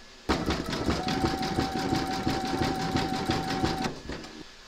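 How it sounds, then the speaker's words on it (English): An embroidery machine runs a satin stitch around a hat band on an in-the-hoop appliqué, a steady rapid stitching rhythm starting abruptly and holding close and loud for several seconds before slowing to a stop. "Load your thread colour for the satin stitch around the hat band into your machine and then stitch round number 11."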